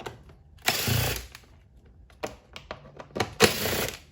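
Cordless power tool backing out the screws around the air filter housing on a Volvo, heard as several short whirring bursts separated by pauses, with light metallic clicks and handling noises between them.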